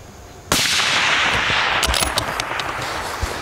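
A long-range rifle fired at a distant target, one sharp loud crack that bursts in suddenly and then rolls out into a sustained echoing rumble across open ground.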